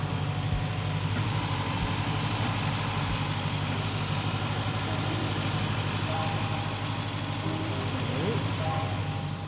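A Jeep Grand Cherokee engine idles steadily in a driveway, a constant low rumble with a few faint knocks, people talking quietly over it throughout.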